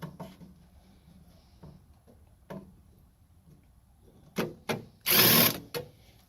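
Screws are driven back into the shroud of a 2020 Amana PTAC air conditioner. Faint ratcheting clicks lead into a few sharp mechanical knocks and one louder, longer burst near the end.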